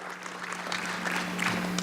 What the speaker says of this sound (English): Let's give our AFT a round of applause.